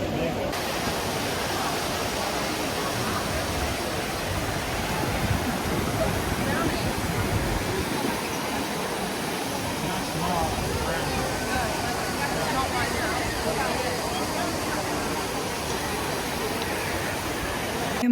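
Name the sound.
Trevi Fountain water splashing in Rome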